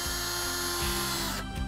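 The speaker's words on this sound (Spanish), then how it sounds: "cogemos el taladro y vamos uniendo estas piezas" A power drill whirs steadily at close range, its pitch dipping and rising as it drives stainless steel screws in short bursts, joining pieces of an outdoor shower base.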